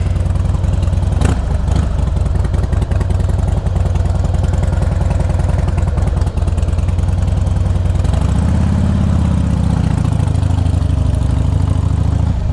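A 2005 Harley Davidson Heritage Softail with 69,000 miles runs steadily close by, its deep, loping V-twin rumble continuous throughout and thickening with a heavier low throb toward the end.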